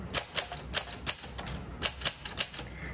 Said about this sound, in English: Okay, so it's typing on top of itself.